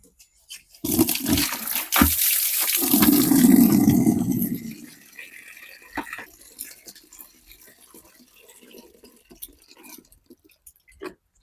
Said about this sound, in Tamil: அதுக்கு ஒரு டப்பாவில் தண்ணி எடுத்துக்கலாம் ஃபஸ்ட்டு